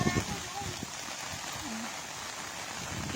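A small river overflowing behind a house during Typhoon Ulysses, a steady broadband rush of flowing water close by, with brief human voice sounds near the start over the constant roar.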